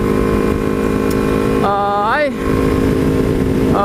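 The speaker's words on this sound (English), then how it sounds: "this is my bike right here. It's a green Ninja, Kawasaki Ninja 250." A green 2009 Kawasaki Ninja 250 motorcycle runs loudly and steadily up close, with its engine tone rising and falling briefly in the middle as if revved.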